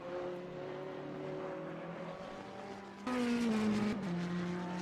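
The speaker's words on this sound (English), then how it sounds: "You see Georgi Aratunian now coming into turn 1 through the chicane in that Bentley on fresh tires." A Bentley GT3 race car on fresh tires at Autódromo Internacional de Curitiba drones through the chicane, then its engine jumps louder and higher as it accelerates out of the turn.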